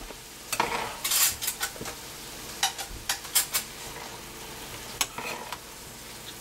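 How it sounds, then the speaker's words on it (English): Food is stirred through leftover pan juices, with a series of scraping, clinking spatula strokes against the pan over a soft sizzle, close and in uneven bursts, with no talking. "we're going to start mixing it up with the juices that we've got left in our pan"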